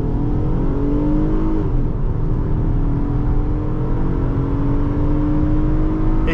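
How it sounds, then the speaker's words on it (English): A 2010 Honda Accord EX-L V6 accelerates hard from a standstill in a 0-60 run, its engine loud and close with a steadily rising whine that dips briefly at a gear change and then climbs again. "Let's go to Mexico and do a 0 to 60 test with RaceBox and drag and see how quick this Accord V6 is."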